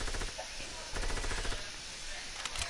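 Rapid automatic gunfire from the Fortnite battle royale game rattles out in dense, loud bursts that run nearly unbroken for a few seconds over a hissy, noisy game backdrop.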